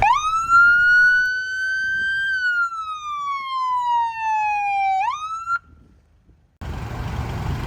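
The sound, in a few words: siren of FDNY all-terrain vehicle ATV 168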